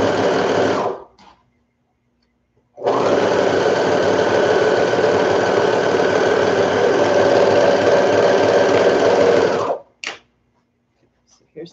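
A serger overlocks fabric for a simple baby bonnet, its steady mechanical whir running loud and close for about seven seconds, with a brief burst before and a short stop-start after.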